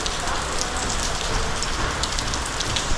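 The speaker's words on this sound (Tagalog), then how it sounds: "biglang hindi tumigil yung ambon" Steady drizzle falls at Paliton Beach on Siquijor, a dense, even patter of raindrops on surfaces, close and continuous throughout, with no talking.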